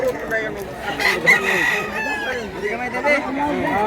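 Close, loud crowing from a large rooster mixes with clucking hens at a countryside chicken sale in Cebu, with faint voices talking in the background.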